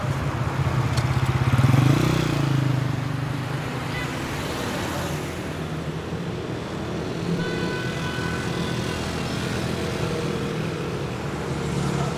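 A motorcycle engine revs up nearby and then drones on steadily, with road traffic noise filling the background.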